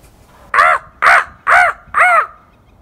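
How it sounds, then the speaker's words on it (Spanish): Crow cawing in an art piece where the artist answers it: four loud, harsh caws at an even, unhurried pace, close and alone in quiet. "un cuervo grazna y la artista le contesta"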